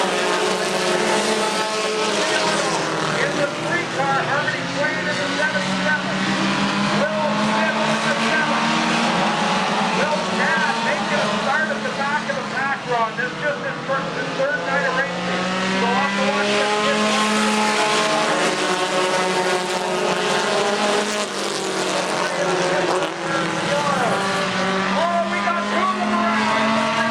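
Race cars circle a short oval track on a Thursday night race program, their engines roaring loudly in overlapping waves, with pitches sweeping up and down as cars pass close by, a commentator talking over the continuous engine noise.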